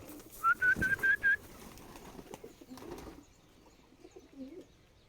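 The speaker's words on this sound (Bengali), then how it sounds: "কবুতরগুলোকে খাবার দিয়ে দিব এখন।" Pigeons, kept alongside wild doves, coo at a home near a lime tree. A quick run of five soft, rounded coos comes first, then scattered rustling and quieter calls follow.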